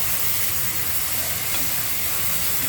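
Chopped tomatoes tipped into onions fried until reddish-brown for a spicy tomato chutney, giving a steady, close, loud sizzling hiss with no talking.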